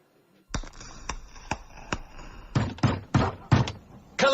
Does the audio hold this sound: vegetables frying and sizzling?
no